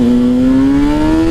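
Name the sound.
GSX-R engine-swapped motorcycle accelerating hard in first gear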